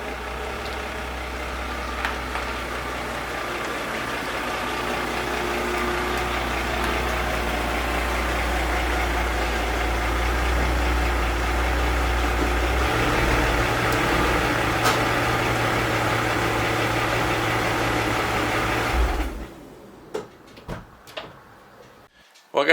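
A Mercedes AMG engine idles with a steady low rumble while the car is pulled into a garage. The rumble stops near the end, leaving a few faint knocks and clicks.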